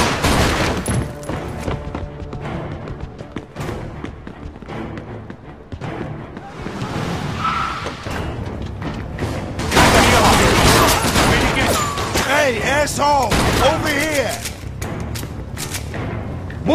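Sustained bursts of gunfire from the Mafia II video game, with rapid overlapping shots and heavy thuds that swell louder toward the end, while voices shout beneath the shooting.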